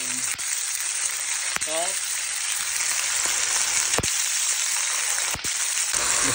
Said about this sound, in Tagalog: ipa-fried lang natin ang ating chicken fillet.